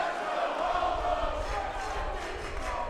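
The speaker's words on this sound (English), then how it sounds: "Man, the crowd is alive." A lively crowd at a wrestling show in Albuquerque, New Mexico, cheers and yells in a continuous roar, with scattered shouts rising above the steady din.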